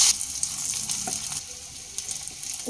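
Bitter gourd rubbed with salt and turmeric is dropped into hot oil, the same oil used earlier to fry lentil dumplings. A steady, close sizzle and crackle runs throughout with no talk.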